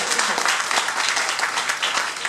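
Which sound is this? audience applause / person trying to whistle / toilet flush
audience applause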